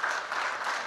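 A lecture audience claps in a brief, dense burst of applause that holds steady at a moderate level throughout.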